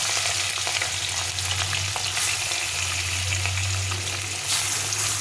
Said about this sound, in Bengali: প্রথমে আমি মাছগুলোকে ভেজে নেব